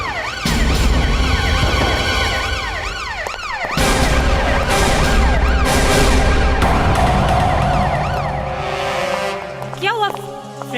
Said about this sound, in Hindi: ये तो हमारे ब्यूरो का सायरन है।